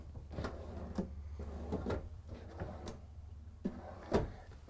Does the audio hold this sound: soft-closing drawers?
yes